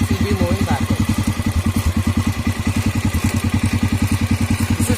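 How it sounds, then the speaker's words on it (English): A motorcycle engine runs with its reverse gear engaged through a compound bevel gear arrangement and the clutch released. It sounds like a steady, close, rhythmic low chugging that pulses evenly throughout. "Okay, now as you release the clutch, the wheels will be moving backwards."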